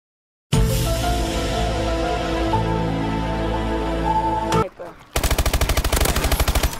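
Gunfire in the Call of Duty Advanced Warfare video game: a loud sustained burst of automatic fire, then a brief drop, followed by another rapid, evenly pulsed stream of shots.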